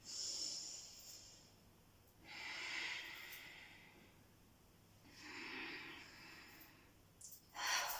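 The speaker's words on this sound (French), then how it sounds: "J'inspire, je monte les bras et j'expire" Slow breathing during a movement meditation: three long, soft inhales and exhales in a calm rhythm, close and quiet, with a sharper breath at the end and no talking.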